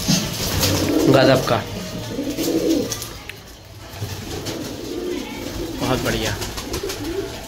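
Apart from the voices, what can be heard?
pigeons cooing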